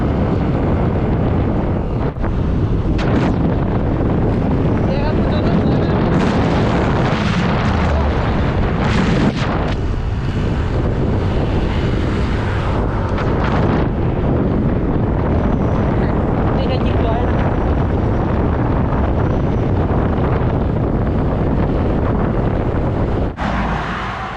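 On a vehicle ride along a mountain road near Phetchabun, heavy wind buffets the microphone in a loud unbroken roar with rumbling engine and road noise underneath for the whole stretch.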